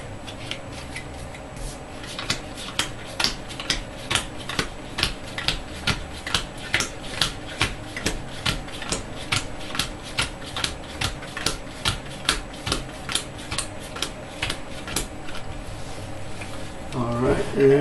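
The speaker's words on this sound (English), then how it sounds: "Shuffle the encounter discard pile into the encounter deck." A deck of game cards for a horror board game is shuffled by hand with a little shuffler, giving a long run of quick, evenly spaced riffling snaps up close, with no one talking.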